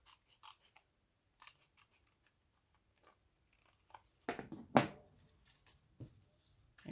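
Scissors snip through paper while trimming a piece for a Grinch-themed Christmas card, with a few faint light cuts followed by a couple of louder, close crisp snips near the end, and no talking.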